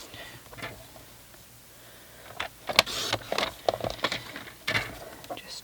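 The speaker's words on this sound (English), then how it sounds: "I'm going to grab my piece of basic grey, and I'm going to cut that just to 1 inch." Grey cardstock is trimmed to a one-inch strip with a paper trimmer, giving a few quick close scraping slices and clicks over a quiet room.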